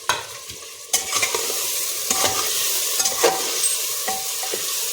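Whole spices sizzle and crackle in hot oil in a pan as the base of a mutton stew, a steady close frying hiss with scattered pops and occasional stirring scrapes, and no voices.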